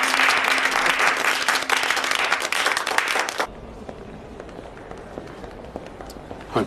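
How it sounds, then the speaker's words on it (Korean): A group bursts into dense, energetic applause for about three and a half seconds, then it cuts off abruptly to a quiet room tone with faint scattered sounds. "박수."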